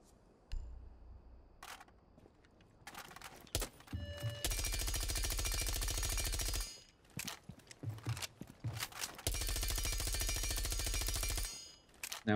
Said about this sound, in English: Next is Valkyrie's MPX. I like to run suppressor on it.